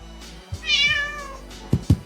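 An orange tabby cat filmed in a pet shop gives a single clear, drawn-out meow, followed by a couple of soft thumps.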